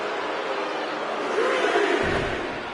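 Arena crowd in the WWE 2K25 wrestling game roaring as a wrestler works it up, a thick, steady wash of cheering that swells slightly midway.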